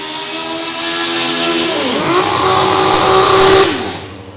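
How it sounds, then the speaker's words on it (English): Drag racing cars on the starting line at Beech Bend rev their engines together, a loud, rising mechanical roar with layered tones that climbs, peaks and then drops away near the end. "A couple of cars that sound like a mad hornet's nest chasing after you on the line."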